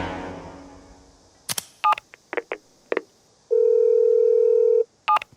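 A telephone is dialed, with a string of short touch-tone beeps at irregular intervals, a longer steady tone in the middle and one more beep at the end, all clear and close in a quiet room without speech.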